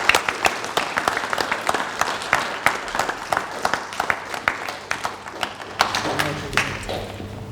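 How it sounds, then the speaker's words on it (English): At a school academy awards ceremony, an audience gives steady applause, with sharp individual claps standing out over a continuous patter and a faint murmur of voices underneath. "if you can give them a massive round of applause"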